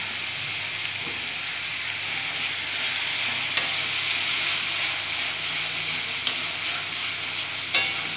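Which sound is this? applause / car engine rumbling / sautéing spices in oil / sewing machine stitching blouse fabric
sautéing spices in oil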